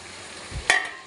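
Fried potatoes go into a pan of spices: a brief low thump followed by a short burst of sizzle and a clatter, set against a quiet background sizzle.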